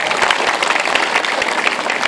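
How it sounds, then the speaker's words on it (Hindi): A village crowd gives loud, vigorous applause for the woman sarpanch at a model-village gathering, dense, continuous clapping from many hands, close and energetic throughout the short burst. "सरपंच जी हैं, इनके लिए भी जोरदार ताली।"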